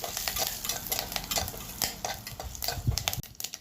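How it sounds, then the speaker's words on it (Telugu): Mustard seeds, cumin, dried red chillies, curry leaves and asafoetida sizzle in hot oil for a rasam tempering. A spoon stirs and scrapes the pan steadily over the continuous frying crackle. "తాలింపేసి రసం చేద్దాం. ఆవాలు, జీలకర్ర, ఎండుమిరపకాయ, కరివేపాకు, ఇంగువ"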